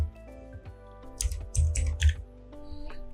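Fingers type code on a computer keyboard, a burst of quick, close, clicky key presses in an irregular rhythm, with no voices over it.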